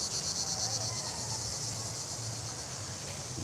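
Cicadas on a beach in Turkey, a steady, high-pitched buzzing drone filling the air continuously with a low hum underneath.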